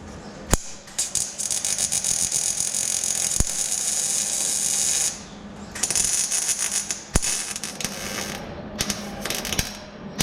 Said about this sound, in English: I'm going to start welding these brackets in